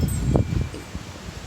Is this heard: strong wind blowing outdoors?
yes